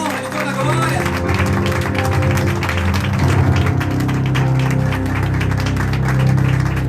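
Church congregation clapping their hands in steady, loud unison, with a dense rhythmic patter over music and a speaking voice throughout.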